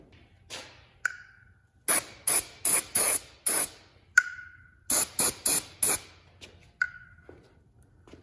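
Short sharp hisses from a spray can of cleaner sprayed onto an engine piston, about nine quick bursts in two groups, with faint clicks and a low hum in between.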